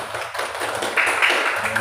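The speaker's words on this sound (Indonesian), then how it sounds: "Tepuk tangan buat kelompok 3 dulu. Tepuk tangan buat mereka." A classroom of students claps for a group, producing a brief burst of scattered, close clapping that swells partway through, with faint voices mixed in.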